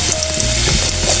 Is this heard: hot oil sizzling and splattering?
yes